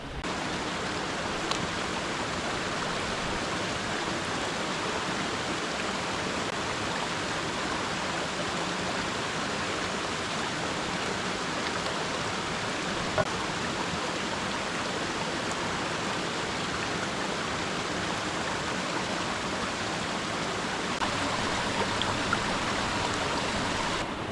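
Mountain stream in the Appalachian woods rushing steadily while a Nalgene bottle is filled, a broad continuous water roar close by with no talk over it.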